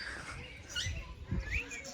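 Faint parrot chirps come in short bursts over low background rumble at Patiala zoo, with a few brief scratchy calls.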